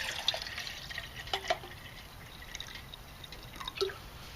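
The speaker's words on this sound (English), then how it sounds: "Let's fill our pot 900 up with some water." Water trickles and drips into a Solo Stove Pot 900, faint and uneven, with a few brighter splashes over a quiet background hiss.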